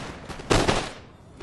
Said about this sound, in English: The enemy fires, take out quite a few, and then we fire our return.